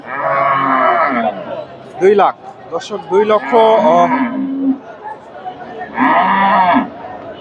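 Friesian dairy cow giving fifteen litres of milk, at the Dhap cattle market in Bogura, lows twice in long drawn-out moos at the start and again near the end, with people talking close by in between.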